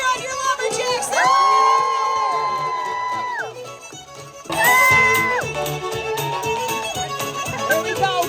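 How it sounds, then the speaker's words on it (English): A crowd at a lumberjack show cheers on the competitors in two loud surges of shouting and whooping, children's voices prominent, with a quieter lull between. "you gotta cheer on your lumberjacks"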